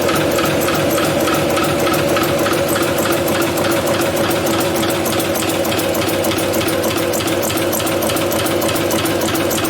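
A small engine runs steadily with a fast, even mechanical clatter of valve gear, loud and close throughout, with no voices.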